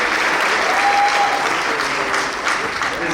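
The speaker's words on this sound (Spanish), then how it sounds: "Recibamos con un fuerte aplauso" Audience applause welcoming a speaker at a lecture, loud sustained clapping from a crowd filling the room throughout.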